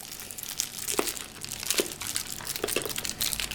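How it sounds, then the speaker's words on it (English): Plastic wrappers crinkle as hard candies are unwrapped by hand, a close, busy crackling with a few louder crisp snaps amid continuous rustling, no voices present. "Unwrap all the lollies"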